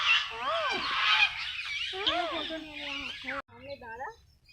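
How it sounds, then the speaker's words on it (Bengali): Geese or ducks at a bird park honk repeatedly in a noisy cluster, harsh nasal calls overlapping close by, with a few isolated honks near the end and no talk. "তারপরে এখানে এক প্রজাতির হাঁস ছিল।"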